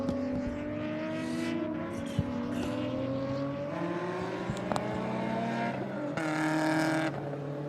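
Lotus Cup race cars at the Nürburgring, heard from a distance with rising and falling engine pitches as they brake and accelerate toward turn one, a faint steady roar with a louder surge near the end.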